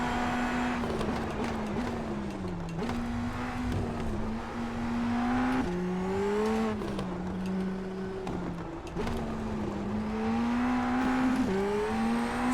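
An Indy NXT open-wheel race car on a road course in iRacing holds a loud, continuous engine drone that climbs and dips through repeated gear changes as it accelerates off corners, with no talk.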